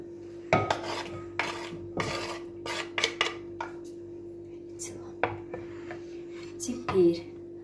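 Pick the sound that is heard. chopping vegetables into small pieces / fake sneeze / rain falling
chopping vegetables into small pieces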